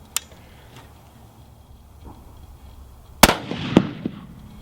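A single sharp rifle report from a Savage 10FP chambered in .308 Winchester, fired with test powder loads on a 100-yard range, preceded by faint clicks and followed by a brief echoing tail.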